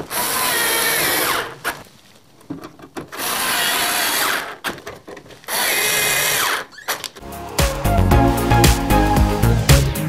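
Electric screwdriver driving screws into a Prusa 3D printer enclosure, three loud sustained whirring bursts separated by short pauses, then a different rattling mechanical passage at the end.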